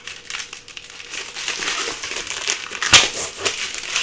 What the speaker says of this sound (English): You just peel that off on both sides.